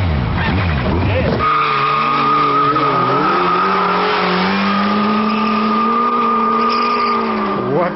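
Kawasaki Ninja ZX12R and Suzuki GSXR 1300 Hayabusa sport motorcycles ridden hard, a loud close engine roar climbing steadily in pitch as one bike accelerates, with a brief burst of revving at the start.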